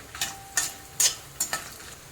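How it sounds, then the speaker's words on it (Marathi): Spices frying in hot oil for a homemade non-veg masala, four distinct loud bursts of sizzling and stirring spaced about half a second apart, close and clear with no voices. "हे चक्कर पण टाकत आहे तेला चांगलं फ्राय करून घ्यायचं"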